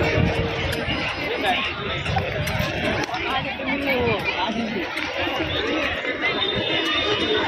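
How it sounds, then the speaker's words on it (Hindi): Dense crowd chatter fills a busy amusement park, Khatu Shyam Park in Modband near the Badarpur border, with many overlapping voices, occasional laughter and steady hubbub throughout. "बहुत सारी भीड़ है यहाँ पर।"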